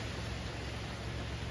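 Steady soggy rain hissing down outside a Dollar General store, a constant broadband wash with no gaps, moderately faint and heard alone.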